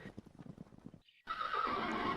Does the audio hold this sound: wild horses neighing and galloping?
yes